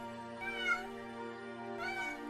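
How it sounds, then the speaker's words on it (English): A cat meows twice in a video game, soft and somewhat distant, over a faint steady hum. "Meow. Meow."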